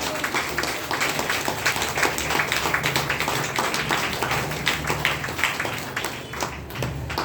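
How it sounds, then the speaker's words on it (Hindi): An audience at a motivational business seminar breaks into dense, sustained applause, many hands clapping steadily at an even level throughout. "जोरदार ताली होनी चाहिए कि नहीं होनी चाहिए?"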